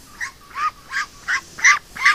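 An injured duck with a probably broken foot quacks six times in a steady series of short, harsh, fairly close calls while being held and handled.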